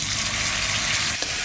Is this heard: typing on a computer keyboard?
no